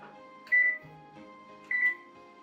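An oven control panel beeps twice as the temperature is keyed to 350, each a short clear electronic tone about a second apart, set against quiet kitchen background with no talking.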